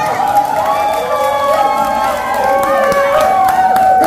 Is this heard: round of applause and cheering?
yes